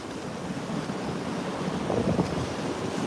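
Ocean surf and gusty wind roar steadily at a beach, with waves washing in continuously and heavy wind buffeting the microphone throughout, no voices.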